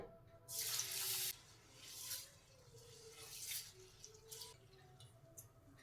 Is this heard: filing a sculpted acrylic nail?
no